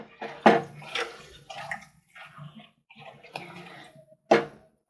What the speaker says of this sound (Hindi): जैसे मैं लगभग इसमें आधा गिलास पानी ऐड कर रही हूँ।